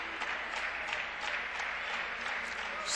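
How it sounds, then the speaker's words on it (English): A gymnastics meet crowd claps along for a vaulter preparing her approach at a Boise State versus Florida competition, producing a loud, sustained, even patter of many hands in a large arena. "She's got the whole crowd clapping."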